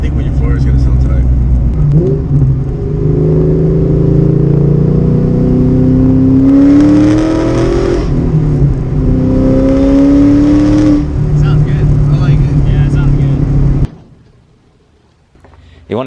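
A Ford Mustang Foxbody's engine idles, then revs up twice in rising whines, loud and close, before cutting to near silence.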